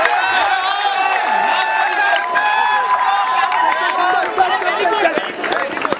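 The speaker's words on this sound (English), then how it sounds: "Everyone, let's cheer up the athletes." Crowd at a school athletic meet cheers and chatters continuously for runners in a race, a dense, steady mass of voices with shouts rising above the din throughout.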